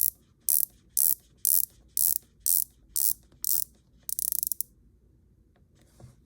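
Sharp ratcheting clicks from a rotating Rolex Submariner or Omega Seamaster watch bezel come in about eight evenly spaced bursts, then a quicker rattling run, crisp and close against near silence.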